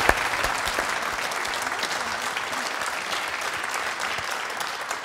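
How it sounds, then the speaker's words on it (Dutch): Studio audience applause on a Dutch television stage show, a steady, dense clapping that fills the whole stretch at even loudness with no talk over it. "Applaus voor Tony en voor Monique."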